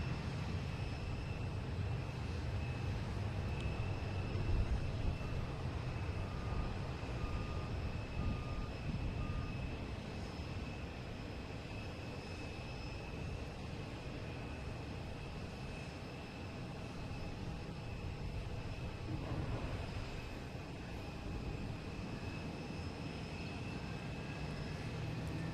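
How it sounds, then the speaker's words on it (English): A JetBlue Airbus A321 jet at Boston Logan Airport, heard from a distance as a steady broad engine roar with a low rumble and a faint high whine. The sound holds for nearly half a minute and rises and falls only slightly. "we got JetBlue and A321 heading to West Palm Beach"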